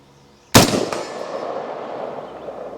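A single 5.56 AR-15 rifle shot fired with Sabre Blade Black Tip ammunition, a sharp loud crack followed by a quick echo and a long fading outdoor reverberation.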